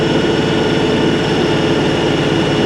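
A tractor running a hydraulic auger while digging a fence post hole gives off a loud, unbroken engine roar with a steady low-end throb and no voices.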